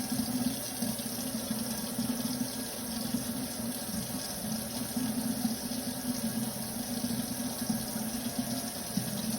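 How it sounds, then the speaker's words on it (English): A sink tap runs warm water in a steady, even hiss and splash that holds unbroken throughout, with no voices over it. "I'm going to go ahead and turn the sink on warm water"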